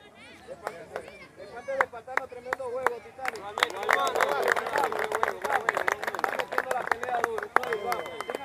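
Audience applause and crowd noise following the Spartans' 8-6 win over the Titans, with scattered sharp claps building into steady, fairly loud clapping and voices mixed in.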